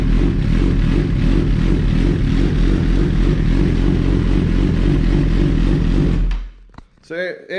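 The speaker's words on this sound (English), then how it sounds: "I like to make sure that the bike will start." A Suzuki GSX-R1000R sport bike in a home garage fires up after an ECU flash, a loud steady close engine drone that cuts off abruptly near the end, followed by a brief voice.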